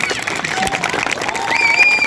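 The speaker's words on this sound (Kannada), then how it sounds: "ದೊಡ್ಡದೊಂದು ಚಪ್ಪಾಳೆ ಬಂದ್ಬಿಡಿ" An audience at an apartment New Year celebration breaks into loud applause with crowd noise, a dense burst of clapping and cheering that fills the room.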